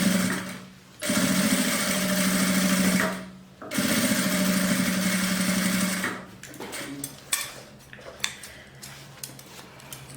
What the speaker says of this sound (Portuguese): a gente vai passar uma costura, tá? É uma costura reta com um pezinho de máquina pra dar o acabamento